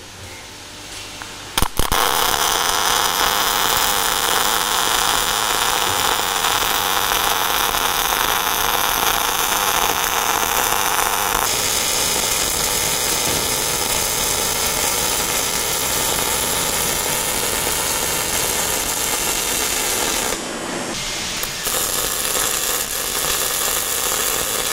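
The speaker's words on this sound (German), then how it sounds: "Kann ich anfangen hier zu schweißen." A steady, loud electric welding hiss and buzz fills the space while a metal observation tower structure is joined. It runs almost unbroken with a short cut-off near the end and no talk.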